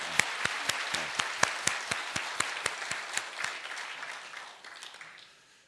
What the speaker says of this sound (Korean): 오랜만에 오셨으니까 더 자주 오시도록 박수 한번 또 보내겠습니다